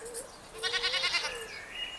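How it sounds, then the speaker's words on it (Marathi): Goats bleat at a rural homestead, with one wavering, nasal bleat in the middle and softer calls around it. The sound is fairly faint and has no speech over it. "ए नाम्या उठ उठ शेळ्या सोड"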